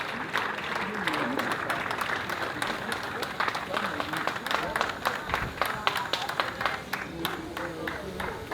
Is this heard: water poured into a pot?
no